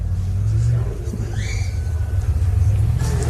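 Extreme two-wheel drive off-road trucks spin while staying on the gas at a 4x4 adventure park, a loud, low engine roar with a revving surge midway and talk under it.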